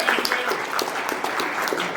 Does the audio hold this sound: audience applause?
yes